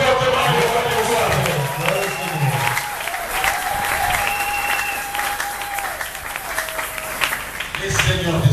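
A congregation claps and cheers loudly throughout at the closing of a church seminar, steady dense applause under a preacher's voice speaking over it.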